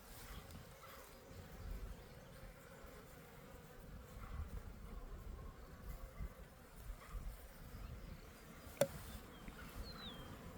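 Honey bees fill an open hive with a dense, steady drone during a hive inspection, a continuous close buzz that holds without pause, with one brief sharp tick near the end.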